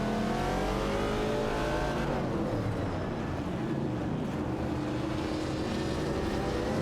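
Race cars in an AI-driven racing video game, including a Ford Falcon and a 1970 Chevrolet Camaro, roar steadily with engines revving and shifting pitch, a dense continuous drone of several cars together.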